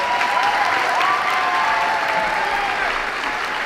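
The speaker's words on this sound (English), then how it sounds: "So please, round of applause for these girls." An audience at a fifth grade moving-up ceremony claps warmly for several seconds, a dense, steady patter of many hands in an indoor hall that fades slightly toward the end, with a few faint voices mixed in.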